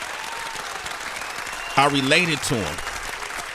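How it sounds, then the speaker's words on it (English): Steady audience applause at a basketball-themed talk event, continuous and moderately loud, with someone speaking briefly over it midway. "Keep the applause going."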